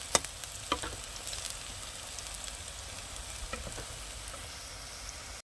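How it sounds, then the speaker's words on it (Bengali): Dal bori (lentil dumplings) fry in oil with a faint, steady sizzle and a few soft clicks from the pan. "ডালের বড়িটা ভাজা হয়ে গেছে"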